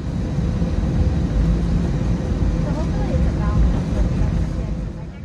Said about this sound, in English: I am right now on a 7-year-old Airbus A320.